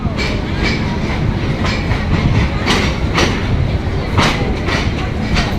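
A passenger train running from Rajendrapur toward Mymensingh rolls loud and close, with steady rumbling wheel noise and evenly spaced clickety-clack beats over the rail joints throughout.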